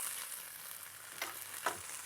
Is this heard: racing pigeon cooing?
no